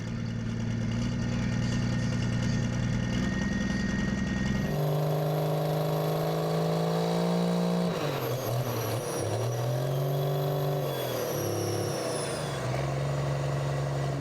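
A diesel pulling truck idles loudly and steadily with a deep hum. Partway through the pitch steps up, then dips and wavers as the engine blips, with whining turbo tones above it.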